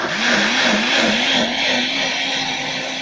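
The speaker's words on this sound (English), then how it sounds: "we're just going to blend that until it's nice and minced" A blender mincing coconut for a coconut bake gives off a loud, steady motor whine whose pitch wavers slightly as the blades churn, with no voices over it.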